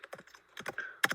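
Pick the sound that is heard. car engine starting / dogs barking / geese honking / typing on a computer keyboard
typing on a computer keyboard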